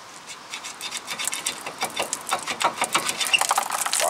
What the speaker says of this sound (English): All right, let's get this rotor off.